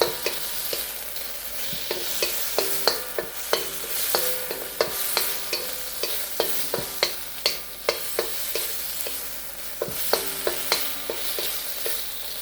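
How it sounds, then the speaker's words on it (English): Steady frying sizzle of shrimp with zucchini in a hot pan, with repeated sharp clinks and scrapes of a utensil stir-frying, fairly close and continuous, no talking. "Always sauteing. Always stir frying."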